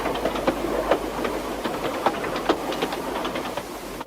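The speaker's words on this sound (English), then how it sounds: "Its black paint was shabby, and its puffs were deep and hoarse." A large black steam engine chuffs steadily with deep, hoarse, closely spaced puffs over a constant rumbling, close and loud with no talking.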